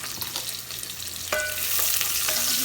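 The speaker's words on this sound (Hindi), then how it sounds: "घी मैंने डाल दिया था तकरीबन 2 बड़े चम्मच देसी घी के। इसमें अब मैं शामिल कर रही हूँ प्याज।" Chopped onions frying in about two tablespoons of desi ghee, a close, steady sizzle that grows slightly louder, with occasional stirring scrapes and no talking.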